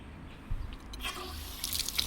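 Running tap water pouring over a Unihertz 8849 Shark3 rugged 5G phone during a waterproof test, a steady splashing wash that grows a little brighter after the first second, with no talk.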